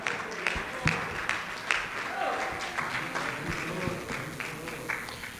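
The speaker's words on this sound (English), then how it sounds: "give the Lord a hand clap of praise" Church congregation applauds in praise during a worship service, a sustained wash of many hands clapping at moderate distance, with scattered louder claps and voices mixed in.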